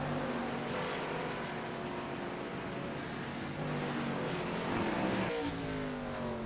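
Race cars lap Sonoma Raceway, engines droning and shifting through gears at mid distance, several cars overlapping in a continuous roar with pitch changes as they pass.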